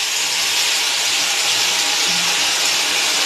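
Water hitting a pan of frying spice paste with chili powder and turmeric, cooked for mustard okra, gives a steady, loud sizzling hiss that runs unbroken for the whole stretch.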